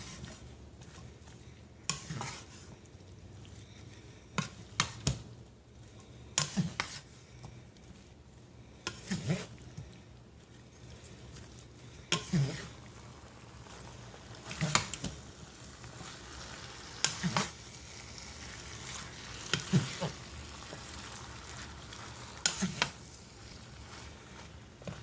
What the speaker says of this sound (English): I'm going to go ahead and let my broccoli cook